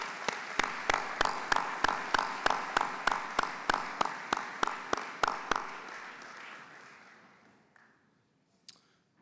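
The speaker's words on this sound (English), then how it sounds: "give a round of applause and appreciation to all those who have supported you along the way" A single pair of hands claps in an even, steady rhythm at a commencement ceremony, moderately close, before the clapping stops and fades into quiet room tone.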